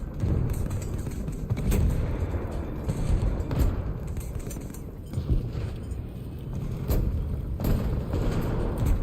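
Tank cannon and gunfire in War Thunder, a dense run of heavy booming shots and impacts layered over a steady rumbling battle bed, loud and close throughout.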